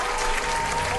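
Audience at a political rally claps steadily in dense, continuous applause, close and loud for the whole moment with no talk on top.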